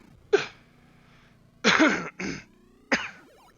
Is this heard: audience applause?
no